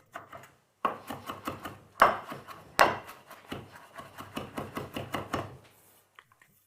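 A knife chops parsley on a wooden board with a run of crisp, irregular taps, a few louder strikes standing out, near and alone, fading to a couple of faint knocks at the end.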